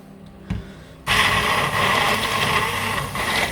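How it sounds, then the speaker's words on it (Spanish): A hand blender purées homemade fig jam, its motor kicking in abruptly after a brief quiet start and then running steadily and loudly with a dense, even whir. "lo que hago yo es triturarlo con la batidora"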